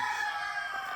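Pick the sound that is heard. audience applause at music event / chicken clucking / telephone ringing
chicken clucking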